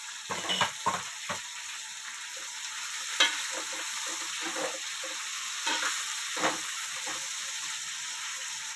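Ridge gourd peel and green chillies fry in a pan with a steady broadband sizzle, broken by several sharp scraping stirs near the start and a few more later, close and fairly loud with no voices.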